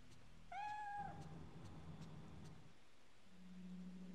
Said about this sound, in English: I keep hearing the cat, but I don't see it.